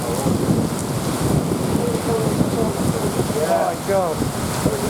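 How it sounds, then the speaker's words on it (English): Strong wind gusts and rain roar steadily through a thunderstorm in Wichita Falls, Texas, loud and close throughout, while people exclaim over the noise. "That's good wind."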